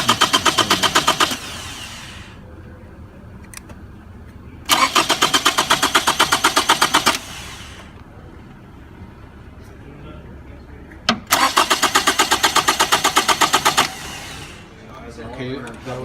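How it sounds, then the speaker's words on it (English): A car engine cranking with the key on during fuel system testing, heard as three loud bursts of rapid starter churning. Quiet gaps fall between the bursts, and faint clicks and background sounds sit in those gaps. "that was a key on and cranking only"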